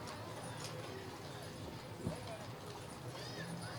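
Mules and horses pulling carriages in a Mule Day parade in Columbia, hooves clip-clopping faintly amid steady outdoor crowd noise and people talking.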